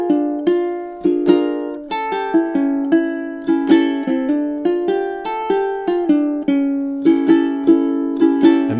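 Ukulele fingerstyle picking plays measures 9 to 12 of a minor blues riff, plucked notes ringing out in a steady rhythm with layered chords and single-note runs, clear and close with no voice.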